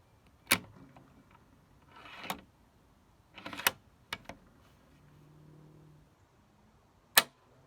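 A Tikka T3x Roughtech Ember rifle bolt being worked, with several sharp metallic clicks and slides spaced over a few seconds, close and crisp in a quiet room.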